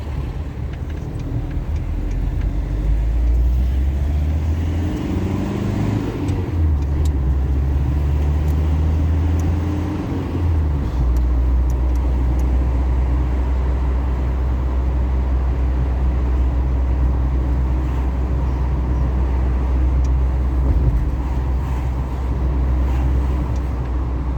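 A car drives and turns through Ankara traffic near Sıhhiye, heard from inside as a steady low engine and road rumble, with the engine note rising and falling during the turn before settling into an even drone.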